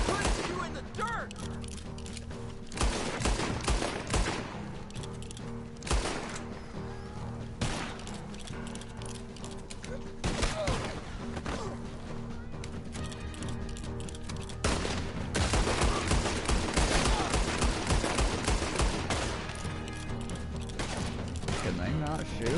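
Rapid gunfire in Red Dead Redemption 2, a western action game, crackles in repeated bursts and volleys throughout, loud and dense, with a game soundtrack and effects layered beneath.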